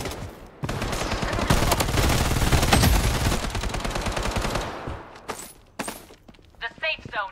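Minigun fire in the Blood Strike shooter game, a loud sustained burst of rapid shots lasting several seconds, then tapering into scattered shorter bursts, with a game voice line over the firing.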